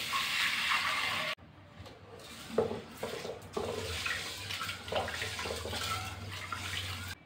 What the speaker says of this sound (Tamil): நாலு கப்பு தண்ணி சேர்க்குறேன்.